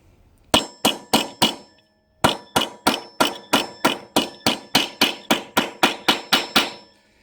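Hammer blows driving a steering head bearing race home on a Suzuki GSXR750: four quick metallic clangs, a short pause, then a long steady run of about fourteen sharp, ringing strikes, loud and close.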